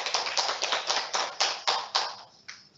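Brief clapping for participants of a live online school class, a small run of sharp, even claps that fade out over a few seconds.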